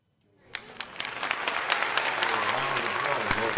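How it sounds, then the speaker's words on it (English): Clapping breaks out suddenly and swells into sustained applause from a crowd, with a few voices mixed in. "round of applause"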